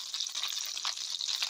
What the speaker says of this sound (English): Okay, so this is a good sizzle.